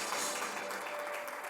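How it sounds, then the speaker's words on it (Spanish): A church congregation applauds steadily during a worship service, a dense wash of clapping that holds at a fairly even level throughout, with no voices breaking through. "Denle un fuerte aplauso al Espíritu Santo."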